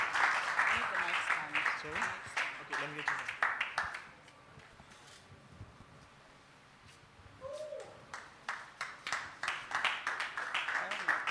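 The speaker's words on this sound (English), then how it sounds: "A round of applause one more time." Audience applause at an international summit, bursts of clapping that die away to near quiet midway and then build again, with some voices present.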